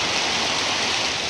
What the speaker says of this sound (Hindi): मुजफ्फराबाद में मुसलसल तीसरे रोज वक्फे से बारिश का सिलसिला जारी रहा।